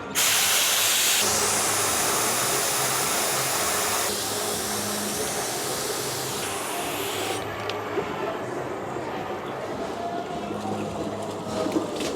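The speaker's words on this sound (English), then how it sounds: "See that CO2 smoke blowing out" CO2 gas blowing out of a beer brewing vessel while making a raspberry coconut stout, a loud continuous hiss and rush that shifts in tone partway and tapers to a softer hiss near the end, close and dominant.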